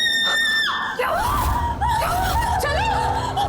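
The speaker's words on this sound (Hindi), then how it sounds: "क्यों चिल्ला रही है?" A woman screams loudly in a horror TV drama scene, a long high wail that breaks into several sharp, rising and falling shrieks over a tense, noisy backdrop, with no clear speech.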